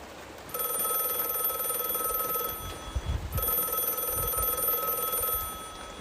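A telephone rings in a cartoon household, a bright electronic bell trilling in two long bursts separated by a short gap, loud and close with no talk over it.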